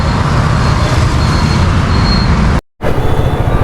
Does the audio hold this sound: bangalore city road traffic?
yes